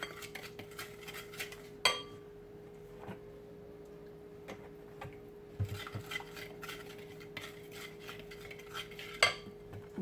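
Seasoned meat being mixed with oil for Ethiopian shekla tibs, heard as quiet, intermittent utensil clicks and light clinks against a dish, with a couple of sharper knocks over a low steady hum.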